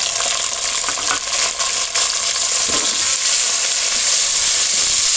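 Chopped tomatoes fry with browned onions in a hot pan, a loud continuous sizzle with occasional scraping and stirring clatter, close-up and unbroken for the whole stretch, with no voices.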